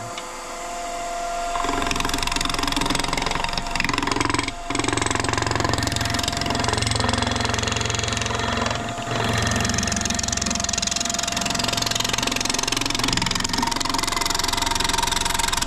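A woodturning lathe rounds a wooden snowman blank with a continuous, loud whirring drone, bumpy and uneven as the tool cuts, with brief dips but no talk.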